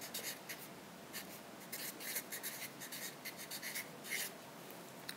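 Pen scratching across paper in quick bursts of short strokes and pauses, close and quiet, no talking, during a Spanish lesson.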